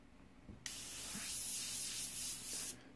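An airbrush with a bent needle sprays paint in one continuous hiss lasting about two seconds, starting and stopping abruptly, close and alone after a few faint clicks.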